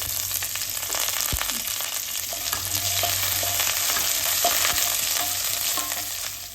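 Dried chillies, curry leaves, garlic and chopped ginger frying in hot oil, giving a dense, continuous crackling sizzle close by, with scattered small pops throughout.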